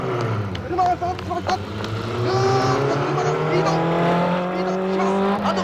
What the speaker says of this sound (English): the impact will come from a speeding truck aiming for the target on the side of the drape